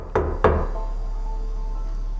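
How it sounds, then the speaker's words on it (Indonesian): Two sharp knocks on a door in an Indonesian horror film, loud and close, spaced about a third of a second apart, followed by a low, steady hum with no voices. "tiba-tiba terdengar suara ketukan pintu"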